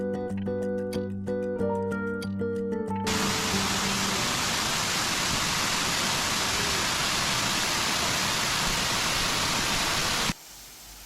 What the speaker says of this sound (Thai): พอเดินเข้ามาแล้วก็จะเจอน้ำตกอยู่ทางขวามือก่อนจะขึ้นถ้ำซึ่งเป็นน้ำตกเล็กๆแต่สวยงามมากเลยทีเดียว